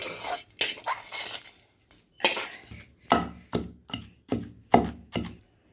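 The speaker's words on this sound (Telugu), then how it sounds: "కల్లుప్పు వేసేద్దాం మునగాకు వేసి దంచుకుంటా" Drumstick leaves and coarse rock salt pounded in a mortar, about a dozen sharp thuds in an uneven rhythm, close and clear, with short gaps between the blows and no talking.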